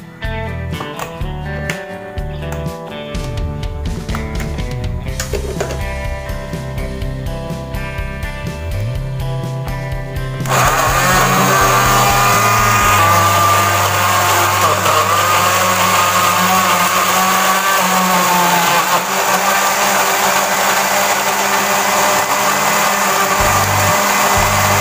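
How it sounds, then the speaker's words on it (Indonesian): A kitchen blender whirs steadily as it purées papaya for a face mask. The motor is loud and continuous, growing more intense partway through, and no one speaks over it. "Kita masukkan ke dalam blender."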